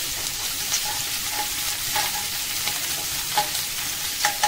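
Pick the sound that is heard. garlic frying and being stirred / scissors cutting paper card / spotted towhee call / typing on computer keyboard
garlic frying and being stirred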